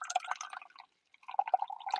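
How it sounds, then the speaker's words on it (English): Boiling hot water trickles and pours into a mug for an Americano made outdoors with a Flair58 espresso maker, a faint, close splashing with a brief pause before the pour resumes. "Just going to add some hot water, this boiling hot water here."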